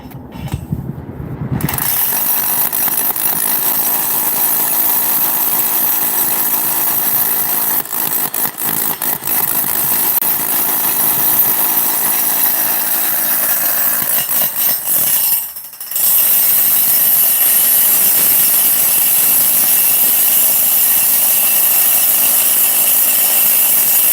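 A Milwaukee drill bores holes into a building foundation for anchors, grinding loudly and steadily for about twenty seconds with one brief pause near the end, running alone without talk.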